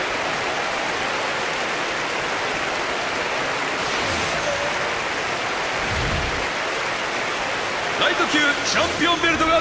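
Arena crowd applause in UFC Undisputed 3, a steady, loud wash of clapping and cheering that holds throughout, with a voice faintly audible beneath it toward the end.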